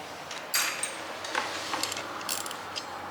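A ratchet wrench fitted with a 1/2 inch or 13 mm socket tightens bolts, producing quick close-up bursts of clicking and metallic rattles with brief pauses between strokes.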